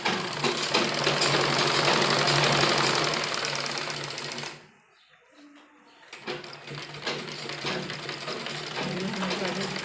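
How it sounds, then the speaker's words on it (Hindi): A sewing machine stitches a folded seam on a suit made from a saree, running in steady loud bursts with a short pause in the middle, while someone talks over it. "इनको हम इस तरह से फोल्ड करके और बीच में सिलाई लगाते हैं।"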